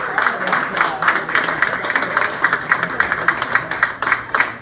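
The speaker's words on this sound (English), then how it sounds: "Give yourselves a round of applause." Audience applause at a stand-up comedy open mic night in a bar, a steady patter of many hands clapping close by with uneven bursts throughout.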